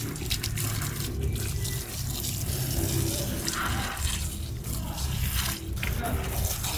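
Water pours steadily into a basin for soaking and washing a motorcycle helmet, a continuous splashing flow close by with slight gurgling variations.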